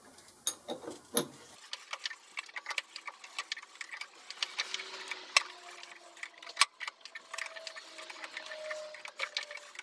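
A lathe is turned forward by hand with a handle on the die stock, producing faint, irregular clicks and light mechanical ticks, close by, with brief faint squeaks and no talking.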